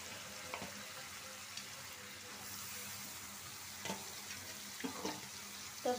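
Chopped ridge gourd and potato sizzle in a pan with dried ribbonfish shutki while being stirred, a steady frying hiss with occasional scrapes and clinks of the spatula, close and fairly quiet.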